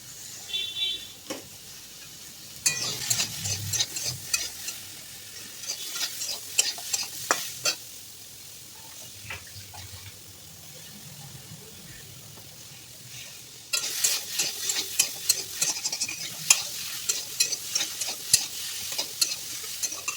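Green chilies frying in a pan for Bengali sukto, stirred in bursts with scraping strokes over a steady close sizzle, no talking.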